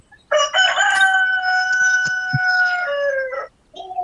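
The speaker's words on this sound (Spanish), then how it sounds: "El gallo Claudio" A rooster crows once in a long, loud, drawn-out cock-a-doodle-doo, used as a voice message in the Free Fire video game, with a brief shorter tail of sound after it ends.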